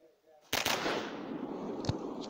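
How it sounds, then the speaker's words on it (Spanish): Gunfire in the mobile robot shooter game Robo Legacy: a sudden loud burst of rapid shots kicks in and continues as dense, sustained firing, with one sharp louder crack standing out near the end. "Disparo en la cabeza."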